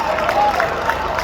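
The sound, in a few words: audience applause, weak clapping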